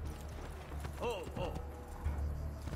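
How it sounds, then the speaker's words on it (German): A horse gallops in the Assassin's Creed 2 video game, its rhythmic hoofbeats drumming steadily at moderate volume while a voice briefly talks over them. "Aber zuallererst nutzen wir das Pferd."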